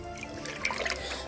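Fresh water trickles and drips inside a cave temple to Shiva, a steady close burble with no one talking.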